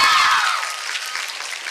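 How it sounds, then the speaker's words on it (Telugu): An audience gives a burst of applause, loud at first, then tapering into lighter scattered clapping. "ఒకసారి గట్టిగా క్లాప్స్ కొట్రా"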